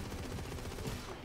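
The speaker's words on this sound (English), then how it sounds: "Let me just shoot it until I can get overheated." Rapid weapon fire in the video game Borderlands 3, with a gun shot continuously on purpose to overheat it, producing a dense, unbroken stream of loud, crackling shots.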